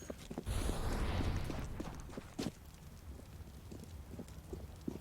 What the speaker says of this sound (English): Abel's going to hear the footsteps